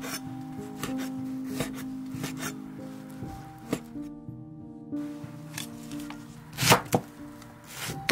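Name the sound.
knife slicing Chinese sausage thinly on a board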